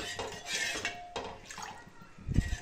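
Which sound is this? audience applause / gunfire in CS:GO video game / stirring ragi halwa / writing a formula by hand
stirring ragi halwa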